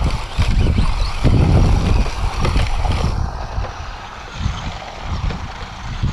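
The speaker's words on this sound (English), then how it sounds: "I just pinned the throttle there, see what it would do." A Tamiya BT-01 RC car at full throttle on dirt, a loud continuous high-pitched motor whine and rough rumble close by, easing slightly toward the end.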